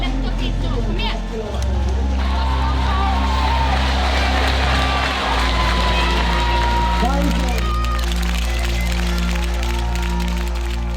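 A home crowd in Sauda cheers and applauds a weightlifter in an indoor hall, a steady dense roar of clapping and shouting with voices talking close over it throughout.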